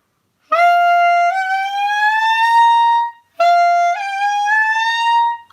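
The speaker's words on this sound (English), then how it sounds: "we do this thing called a glissando or a smear, and it sounds like this" A solo clarinet plays the opening glissando of Rhapsody in Blue twice, each time starting with a low trill and then a long, loud rising smear that bends up to a high held note, with a brief gap between the takes.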